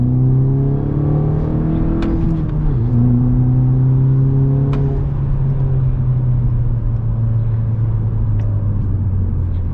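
Modified VW Golf Mk6 1.4 TSI accelerating hard on boost, engine note climbing steadily through a gear change with a brief dip, loud and continuous from inside the car.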